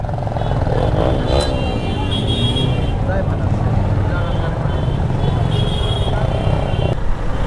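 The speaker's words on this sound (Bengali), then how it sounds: "এখানে জ্যাম বাজে গেছে।" Congested traffic at the busy Birol Bakultala crossing, with a dense, constant roar of idling and creeping motor vehicles, engine drone and occasional horn-like tones, as someone talks over it throughout.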